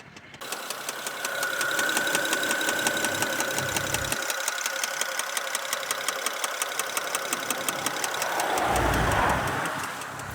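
A BMW 335i engine runs with a steady, rapid metallic ticking knock from a worn bottom end, close and fairly loud, the engine note swelling briefly near the end.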